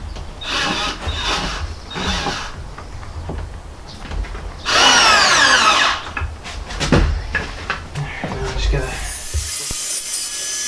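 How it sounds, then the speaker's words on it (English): A power tool cuts down plywood pieces from an old bunk bed: loud, close bursts of rasping and grinding with brief pauses, including a sustained harsh cut in the middle and a steady whirring stretch at the end. "I'm cutting them down so that they're the right size to fit in the new frame and support the seat cushions."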